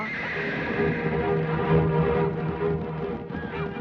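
A wild horse neighs and whinnies in a forest scene, a loud sustained call over dense background sound, with faint hoof clatter mixed in.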